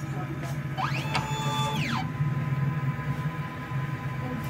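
A DTF printer runs its print head cleaning cycle: a steady mechanical hum and whine with a rising then falling motorized sweep as the carriage moves, close and continuous.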